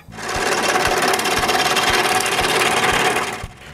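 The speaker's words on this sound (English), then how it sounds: "So I installed this on the lathe" A wood lathe turns an out-of-round rocking chair part, giving a loud, steady whirring drone with a regular rhythmic thump on each rotation, running alone for several seconds before winding down.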